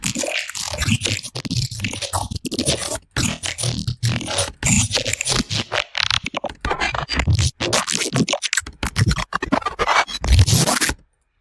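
A long run of rapid, scratchy digital glitches, crackling and stuttering in dense chopped bursts with brief dropouts, loud and continuous throughout.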